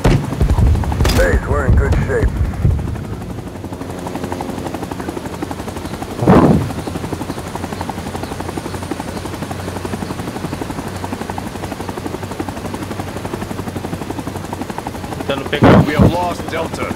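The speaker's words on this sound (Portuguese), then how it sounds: "o cara tá atirando em nós ali" Gunfire crackles through a Rising Storm 2: Vietnam match, with short bursts of shots over a constant helicopter-like engine drone, while players talk in Portuguese at the start.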